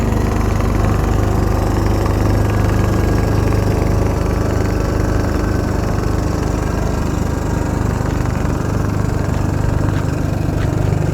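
A steady, close engine drone with a low rumble runs without a break from start to finish, like a motorboat chugging past at constant volume, near a fishing spot in the Philippines.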